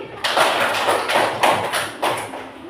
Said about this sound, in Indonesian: Sekali tepuk tangan buat Yanti.